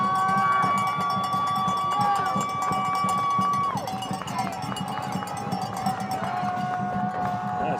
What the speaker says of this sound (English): Hornet Nation getting loud.